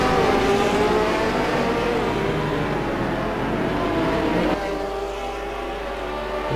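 GT2 race cars roar down the Monza main straight in the Assetto Corsa racing game, a loud sustained engine drone with layered harmonics that shifts slightly in pitch near the end as the cars pass.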